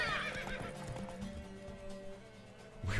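A horse in a race in The Witcher 3 lets out a loud whinny at the start, then its hooves clip-clop in a quick galloping rhythm, with another snort or neigh at the end; no speech.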